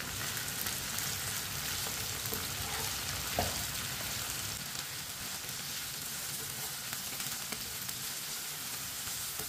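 Chopped okra (bhindi) frying in a pan, a steady close hiss and crackle of hot oil with a brief stirring knock midway, continuing evenly without talk.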